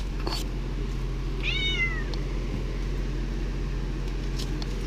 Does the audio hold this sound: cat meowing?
yes